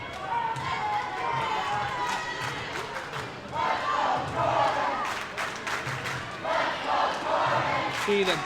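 Spectators at a high school wrestling match between Milton and Stoughton shout and cheer in swelling bursts, with thuds and squeaks from the mat and a commentator talking over the noise.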